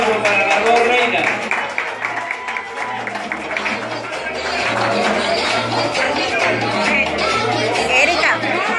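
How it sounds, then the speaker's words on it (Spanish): An audience at the Barranquilla carnival applauds and cheers for the two crowned queens: sustained clapping and crowd chatter under a loud amplified voice and music. "Un aplauso para las dos reinas."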